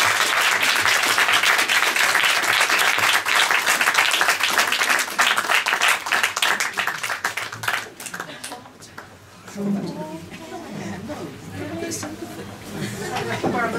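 Large cinema audience claps loudly for guests at a post-screening Q&A, a thick burst of applause that thins into scattered claps and fades by the end as talk and chatter take over.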